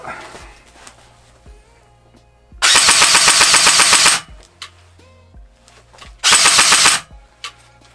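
An LCT LCK-12 electric blowback airsoft rifle fires two full-auto bursts, each a loud, rapid, rattling string of shots with a mechanical clack from the cycling bolt, separated by quiet pauses with faint handling clicks.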